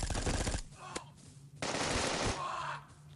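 Rapid automatic G18 pistol fire in the video game Bullet Force, a fast rattling burst at the start followed by single shots and another sustained stretch of gunfire, close and loud.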